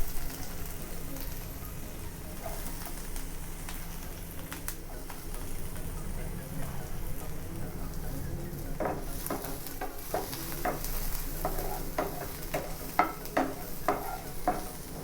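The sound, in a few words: onion and garlic sauteing in pan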